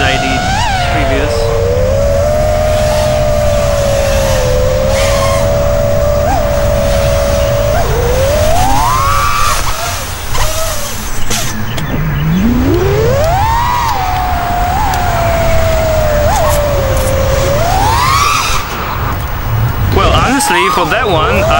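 Motors of an FPV drone fitted with a FlightOne Bolt BLHeli ESC whine loudly while flying in a straight line, holding a steady tone broken by swooping rises and falls in pitch as the throttle changes.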